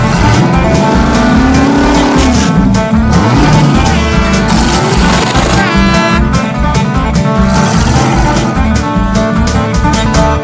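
Demolition derby cars in New Paris, Indiana rev hard and slam into each other, a loud, dense mix of roaring engines, pulsing low thuds and squealing tires that never lets up.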